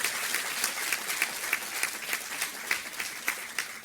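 Sustained applause from an audience honoring dignitaries on the dais at a World No Tobacco Day 2022 event at NIMHANS, steady dense clapping with regular sharper peaks throughout, no talking.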